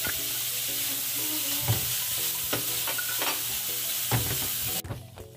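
Khoya roasting in a pan for traditional fried modak, with a steady sizzle and repeated scraping stirs of a spoon against the pan, close and continuous, then a sudden cut to quieter sound near the end.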